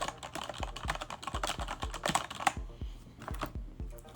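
Rapid keystrokes clatter on a computer keyboard, a steady run of crisp clicks close to the microphone that thins out into a few final taps.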